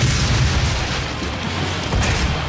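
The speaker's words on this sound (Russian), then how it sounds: "последний выстрел был и готов" A shotgun-style blast from a weapon in the video game Doom, one heavy booming report over dense game noise and rumble, loud and up close, with no talk over it.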